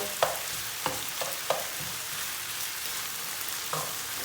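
Tomato paste and peppers sautéing in a pan for a Turkish chicken dish, with a soft steady sizzle and a few sharp clicks of a utensil stirring against the pan, no voices.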